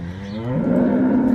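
A farm cow moos once, a long, low, rising call that swells and holds steady near the microphone, with no talk over it.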